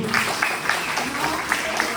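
Church congregation applauding at a Sunday service, a steady wash of scattered clapping with some crowd voices mixed in, moderately loud throughout.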